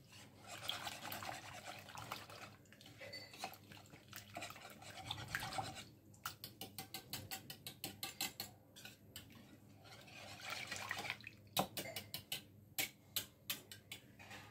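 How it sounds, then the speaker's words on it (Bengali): A whisk beats rice-powder dosa batter in a bowl. Fast wet ticking strokes come in quick bursts with short pauses, close but soft, with no speech. "আমি একটা হুইস্ক নিই, তাতে খুব ভালোভাবে হয়ে যাবে"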